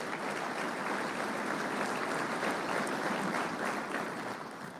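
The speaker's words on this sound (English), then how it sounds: "Please give him a round of applause." A conference audience at a defense industry event applauds the Secretary of the Navy, a continuous, fairly faint wash of clapping that holds steady and slowly tapers off.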